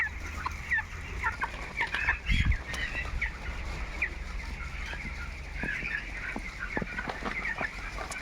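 A flock of 19-day-old broiler chicks cheeps and clucks continuously in a poultry shed, with scattered bumps and handling noises as birds are put on a weighing scale.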